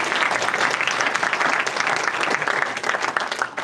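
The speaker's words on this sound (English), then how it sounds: "Go ahead and clap for them." Dense, loud audience applause fills a hall at a university Ignite Talks event, steady and continuous throughout with many hands clapping at once.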